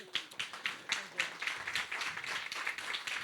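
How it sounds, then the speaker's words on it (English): Audience at a Lemon Grove neighborhood community event applauds, with quick overlapping hand claps forming a steady, fairly quiet wash that swells and continues for a few seconds. "we need to give Chelsea a huge round of applause"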